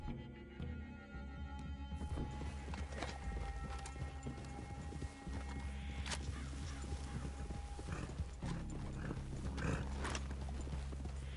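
Horses' hooves clip-clop steadily on the ground in the game Red Dead Redemption 2, a continuous rhythmic plodding over a low ambient rumble with scattered faint sounds.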